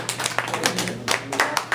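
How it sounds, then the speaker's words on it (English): A small audience claps for a demo presentation. A few hands give scattered, uneven claps across under two seconds, close and moderately loud, with faint voices underneath. "I clap for you"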